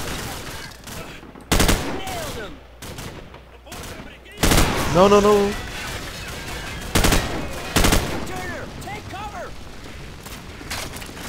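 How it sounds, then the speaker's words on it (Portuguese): Loud bursts of gunfire from the video game Call of Duty Modern Warfare come in several short volleys, with explosions and effects in between, while players talk over the action. "Deu uns tiros no meu colega ali"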